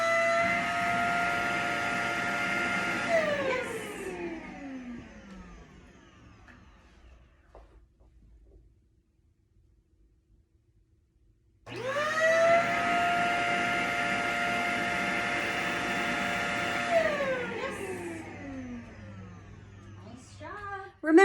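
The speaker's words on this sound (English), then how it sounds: "work on a little bit of duration with the vacuum on" A vacuum cleaner whirs loudly, winds down to near silence, then starts up again and runs steadily, its pitch falling as it switches off.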